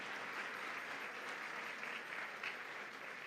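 Congregation at a Catholic church service clapping together, a continuous even wash of applause heard at a distance and fairly quiet throughout.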